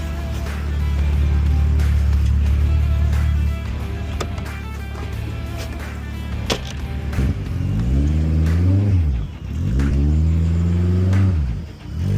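Thunder Saloon Championship race car at Thruxton circuit, engine droning loud and steady from the cockpit before revving up and down in repeated sweeping surges, heard close with no voices.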